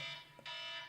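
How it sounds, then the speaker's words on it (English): An alarm sounds in a steady electronic tone with layered harmonics, breaking off for a split second before resuming just as loud. "that's the alarm"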